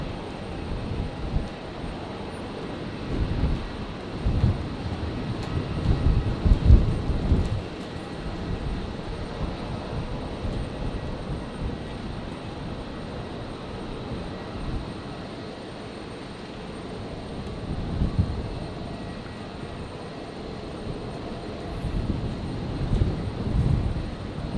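An aircraft lands on runway 01 right at Brisbane Airport on a stormy night, its engine roar swelling and fading in low rumbling surges, moderately distant and continuous throughout.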